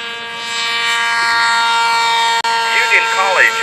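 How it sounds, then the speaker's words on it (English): A radio-controlled model aircraft from Union College at an SAE Aero Design competition, its engine whining at high pitch in a steady, loud drone. A voice speaks over it. "Union College's aircraft took off in about 75 feet"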